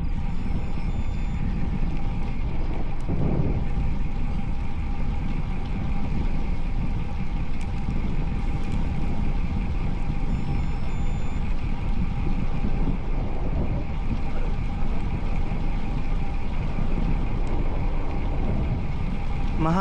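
Steady, loud wind rush buffeting the microphone during a Saturday motorcycle group ride, a continuous broadband roar with engine and road noise beneath it and no clear breaks.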